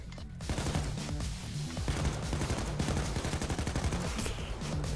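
Rapid, sustained automatic gunfire in the video game Payday 2, dense and loud throughout with a brief gap near the start.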